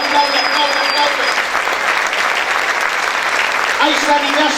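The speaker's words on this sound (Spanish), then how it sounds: "Aplaude." A church congregation claps loudly and continuously during a Spanish-language healing service, the applause mixed with voices and a sustained tone underneath.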